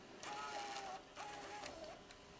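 Sony CCD-TRV65E Hi8 camcorder loading a tape gives faint mechanical whirring and motor whines in two bursts, quiet and close, with no talk.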